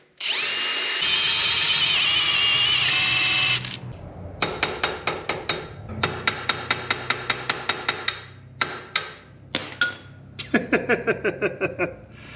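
A stuck, rusted bolt on a 1957 Gard'n Mast'r tractor is worked on: a steady power-tool whir runs first, then close, sharp metal hammer blows land in quick irregular bursts with short gaps between.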